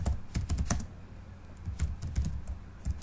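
Python code being typed on a computer keyboard: irregular bursts of quiet, close key clicks with short pauses between runs, no talking.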